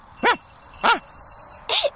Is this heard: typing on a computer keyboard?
no